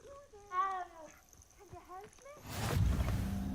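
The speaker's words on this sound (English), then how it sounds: "but no, it is a kitty" A cat in Hogwarts Legacy gives a few short rising and falling meow-like calls. A burst of louder, rushing noise follows.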